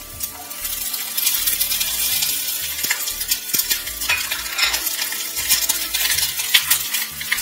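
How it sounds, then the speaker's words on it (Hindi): Pointed gourd (patal) fries in hot oil with a bright crackling sizzle, mixed with clinks and scrapes of a utensil stirring in the pan, close and continuous with no speech. "तेल गरम हो चुका है, मैं पटल को इसमें डाल दूंगी"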